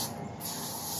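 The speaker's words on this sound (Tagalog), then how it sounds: "kailangan mag-spray muna ako ng Lysol." Short hissing burst of Lysol disinfectant spray from an aerosol can, close and fairly quiet, with a steady airy rush lasting about a second.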